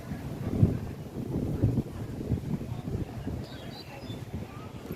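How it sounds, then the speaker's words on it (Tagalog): Gusty seaside wind buffeting the microphone in a continuous low rumble, with no clear voices. "Malakas ang hangin kaya naugasan."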